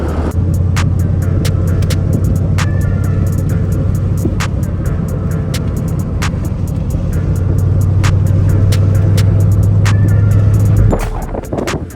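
Ford Mustang Foxbody on a cruise, its engine holding a steady droning rumble from inside the car with a slight rise in pitch, plus scattered ticks and clicks, until it drops off near the end, no talking.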